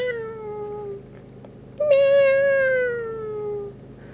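A single drawn-out meow, followed after a pause by a louder, longer one, both close and alone. The meows sound like a person imitating a cat.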